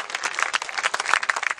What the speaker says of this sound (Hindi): और तालियां चाहिए साहब